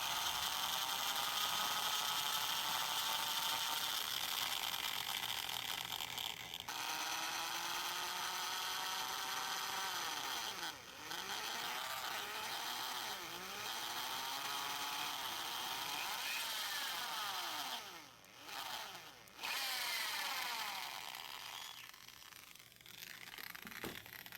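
A power drill whines continuously at high pitch, drilling out a broken intake manifold bolt, its tone sliding up and down as it bites into metal, with brief dips in speed.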